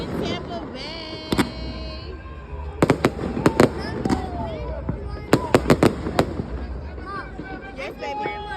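Fourth of July fireworks over Tampa's Riverwalk pop and boom in quick bursts, a rapid volley near the middle, while nearby voices chat and exclaim throughout.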